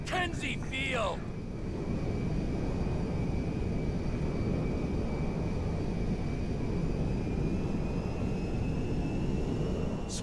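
A jet aircraft in GTA 5 gives a steady, loud roaring whine with a thin high tone held throughout. A brief burst of voices is heard at the start.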